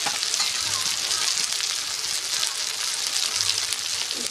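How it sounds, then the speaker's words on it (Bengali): Chilli, turmeric and coriander powders with salt fry in oil for a spicy crab curry, making a loud, dense, hissing sizzle that holds steady throughout, close up, with faint background murmur. "দিয়ে ভালো করে ভেজে নেব। মশলাটাকে ভালোভাবে কষে নেব।"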